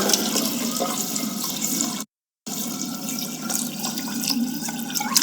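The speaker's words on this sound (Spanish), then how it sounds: "A continuación agregamos agua a cubrir" Water poured steadily into a stock pot over aromatic vegetables to cover them, a continuous close rushing splash with one brief gap of silence midway.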